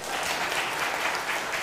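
A church congregation applauding together during a Lunar New Year thanksgiving service, a steady, dense wash of clapping hands that holds evenly throughout without a break.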